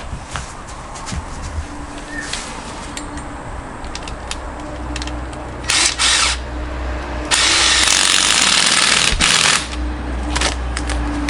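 Cordless power drill driving yellow pegs while setting up a 270-degree camping awning, with short bursts of whirring and a longer high-pitched run near the end, close by and without talk.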